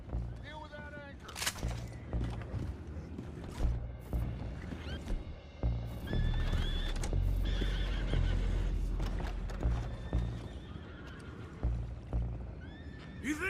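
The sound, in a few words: horses clip-clopping and neighing, from the video game Red Dead Redemption 2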